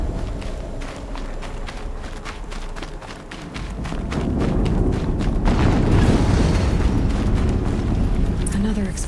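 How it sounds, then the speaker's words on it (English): A deep rumbling explosion in Horizon Zero Dawn swells midway over a backdrop of rapid pattering and thumping, the low roar lingering loud to the end, with a voice speaking. "Another explosion."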